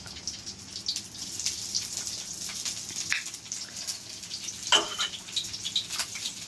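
Onions frying in a pan crackle and sizzle softly and steadily, with small pops and scrapes scattered through and one sharper clink partway along.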